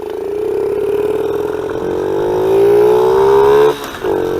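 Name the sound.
stock Honda XR50 minibike accelerating on top speed run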